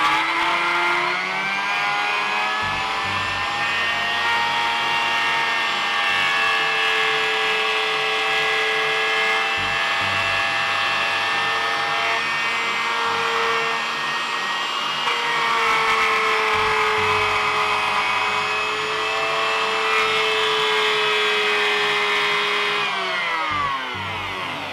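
A power tool routs a shallow pass into a cavity in a Warwick bass body, a continuous high whining motor with a steady tone that dips and recovers under load, close and loud throughout.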